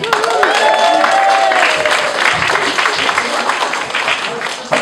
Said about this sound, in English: I think we need more applause.